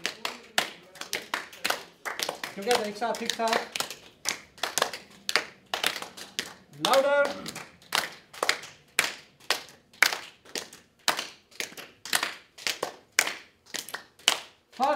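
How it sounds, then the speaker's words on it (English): Group hand clapping during a laughter exercise in a yoga class, steady rhythmic claps repeating throughout, with an instructor's voice calling out cues between them and brief bursts of laughter-like vocalizing. "Coordinate your clapping with me"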